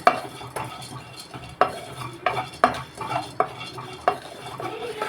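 Sesame seeds and almonds roasting in a pan while being stirred, giving a steady series of scraping, rattling strokes of a utensil against the pan with a soft sizzle beneath.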